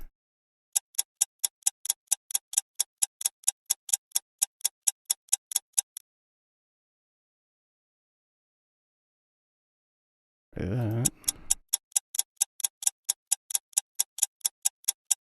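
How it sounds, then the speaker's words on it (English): Clock-tick sound effect for a live stream, a crisp regular ticking that runs for several seconds, stops, then resumes after a brief spoken word. "The clock will remain ticking"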